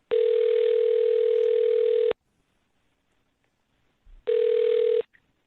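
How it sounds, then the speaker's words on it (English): A telephone dial tone plays as a steady, loud tone for about two seconds, breaks into silence, then returns for a shorter burst, close and alone. "I'm going to dial his phone number right now"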